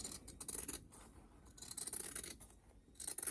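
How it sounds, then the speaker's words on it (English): Close, crisp snips from scissors cutting fabric for a handmade bunny, coming in short rhythmic bursts of rasping cuts separated by brief pauses, with no voices. "I'm going to cut this out."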